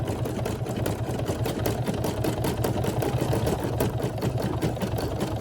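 A Brother SE1900 embroidery machine stitches an appliqué letter, a steady rapid mechanical chatter of needle strokes running without pause, close and constant throughout.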